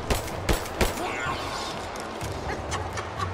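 Gunfire in the video game Rise of the Tomb Raider: a few sharp shots in quick succession at the start, then a steady rumble of game noise underneath.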